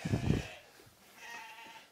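Sheep ewes bleat twice on a farm, a loud low bleat at the start followed by a fainter, drawn-out call, with no talk.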